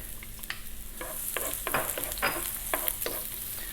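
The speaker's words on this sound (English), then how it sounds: "I've got a little pan here with some oil in. I'm just using a sunflower oil. In goes the onion and the garlic." Onion and garlic frying in sunflower oil in a small pan over medium heat, a constant close sizzle punctuated by irregular scraping and stirring strokes.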